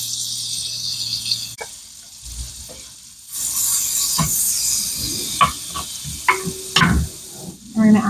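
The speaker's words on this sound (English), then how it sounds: "now you're going to add a tablespoon of butter and let it melt" A tablespoon of butter melting in a pan, giving an intermittent sizzle and crackle up close with a few clinks of utensils and quieter pauses between.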